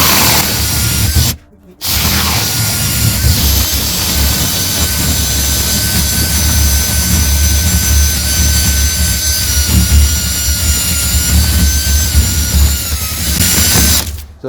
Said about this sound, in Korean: 스테인리스 봉에 이렇게 스테인리스 와샤를 떼워서 드릴에 물려서 돌리면